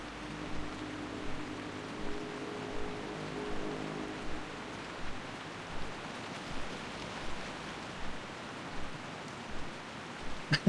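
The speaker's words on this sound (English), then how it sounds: "Oh, rain." Rain in World of Warcraft Classic, a steady soft hiss of rainfall with a faint regular thump recurring about every second and a low hum underneath.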